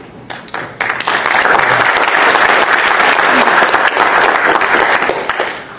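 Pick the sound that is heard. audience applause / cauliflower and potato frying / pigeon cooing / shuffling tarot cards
audience applause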